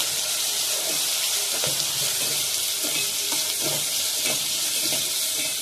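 Onions frying in a pan while being stirred, a steady dense sizzle with repeated scraping strokes of the spoon at regular intervals, close and continuous with no talking.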